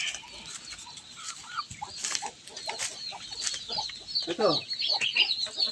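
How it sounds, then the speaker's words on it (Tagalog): Backyard chickens, a mother hen with chicks nearby, cluck repeatedly in short irregular bursts, close and fairly loud, while someone speaks a word or two over them. "Tatlong manok."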